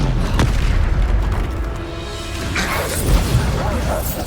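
A Bombarda blasting spell from Hogwarts Legacy goes off amid dense game noise, a sharp booming impact early on followed by crashing debris and continuous effects, with a voice briefly speaking over the din.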